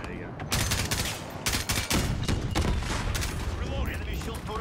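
Sustained suppressive gunfire in Call of Duty: Modern Warfare, loud rapid automatic bursts and single cracks filling the whole stretch with barely a pause, while players talk over the shooting.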